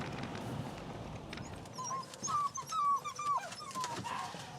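A small puppy whimpers in a few thin, high whines, quiet and close, over a faint outdoor background with low rumbling noise.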